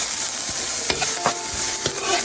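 Celery sautés in a pan with onion, giving a close, loud sizzle broken by several quick stirring scrapes and clatters about every half second.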